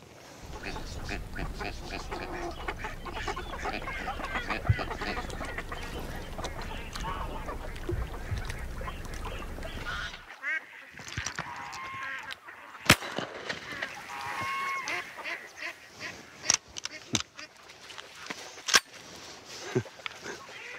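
Wild waterfowl such as geese and ducks honk and call around a hunting hut on the water, steady and busy for the first half, then sparser, sharper calls against quieter surroundings.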